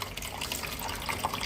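Water poured for someone to drink, a steady close splashing and trickling rush lasting a moment, with no voices.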